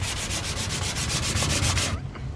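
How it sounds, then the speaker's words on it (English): Car body filler is sanded by hand outdoors in rapid, rhythmic back-and-forth strokes, a close, loud rasping scrape about a dozen times, stopping abruptly near the end. "Got the bog sanded down."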